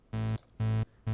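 Three short pulses of a sustained synthesized EDM drop bass line, chopped by a gate so each note starts and stops abruptly with near silence between, loud and evenly spaced.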